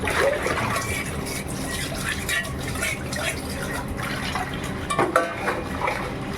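Water runs steadily from a tap while dishes are washed. The close, continuous splashing and gushing carries a few brief clinks and splashes near the end.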